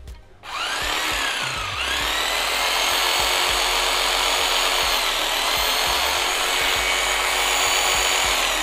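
A genuine Bosch saw, a Japanese-import model 207 taking blades up to 53 mm, is switched on for a test run. It spins up quickly into a loud, steady motor whine with a faint ticking rhythm underneath.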